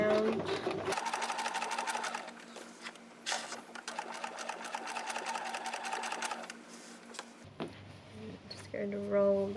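A sewing machine stitches around a backpack in a fast, steady whirring run lasting several seconds, close and clear. Brief handling noises come before and after the run, with a voice talking at times.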